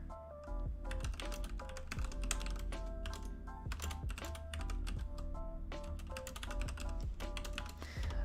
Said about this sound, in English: You can hear me typing now.